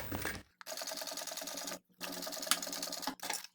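Up close, a sewing machine runs in three quick bursts as it stitches binding onto clear plastic for a transparent cosmetic case, each rapid whirring run separated by a short pause.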